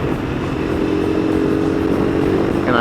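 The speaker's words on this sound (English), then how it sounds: "Having that nice low exhaust note" A KTM 390 Adventure motorcycle engine idles with a deep, steady, rumbling exhaust note, close and loud throughout.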